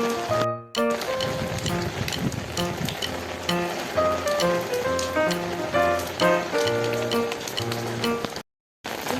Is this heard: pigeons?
no